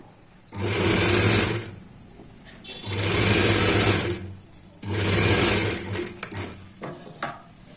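A sewing machine stitches a blouse sleeve in three bursts of rapid whirring, each lasting about a second or two, separated by short pauses with soft handling noises, close and clear.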